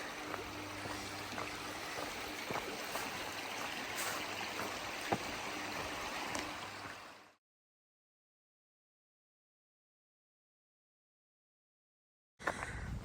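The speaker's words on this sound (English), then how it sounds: "the most serene with this babbling brook" A babbling brook runs beside a hiking trail on the Appalachian Trail, making a steady, close wash of rushing, trickling water for about seven seconds. It then drops to silence before briefly returning.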